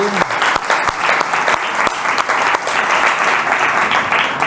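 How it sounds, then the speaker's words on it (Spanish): Audience applause in a hall for Don Pedro Arias, president of a Badajoz foundation, at a presentation on an archaeological project: dense, steady clapping from a crowd throughout, with a few sharper individual claps standing out near the start. "Don Pedro Arias, un aplauso para él"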